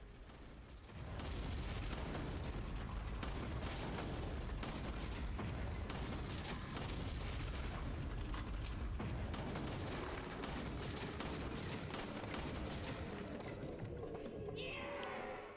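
Gunshots at a practice shooting range in Resident Evil 4 on the Wii, a dense run of sharp reports fired in quick succession for many seconds, loud and close, before tailing off at the very end.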